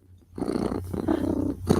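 A cat purring close to the microphone in a low, continuous rumbling rhythm, starting after a brief quiet moment and swelling in short pulses.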